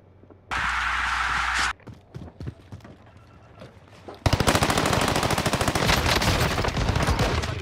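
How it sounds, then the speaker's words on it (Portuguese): Gunfire in the shooter game Call of Duty: Modern Warfare: a short burst of noise, scattered single shots and clicks, then a loud sustained rapid-fire automatic weapon stream close by, with no talking over it. "Alguém atirou em tu, porra."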